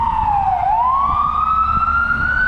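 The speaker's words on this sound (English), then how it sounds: "this ambulance passing by" An ambulance siren passing through a rainy Manhattan alley, its wailing tone sweeping down then rising again, loud and close over a rumbling street background.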